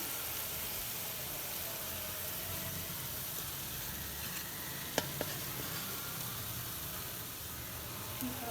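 Carrot halwa cooking in a pan as khoya goes in: a quiet, steady hiss and soft sizzle with faint stirring, broken by a couple of small sharp clicks near the middle.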